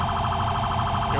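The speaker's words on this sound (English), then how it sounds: "I'm trying to turn off the siren right now." Police car siren in the video game GTA 5, a steady electronic wailing tone warbling quickly and evenly, loud and close and filling the brief moment without speech.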